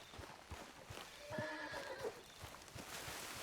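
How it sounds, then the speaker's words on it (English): A horse in the Western game Red Dead Redemption 2 whinnies once, a clear mid-length neigh with falling harmonics, over steady hoof clip-clop and a busy ambient bed. "What's wrong with this horse?"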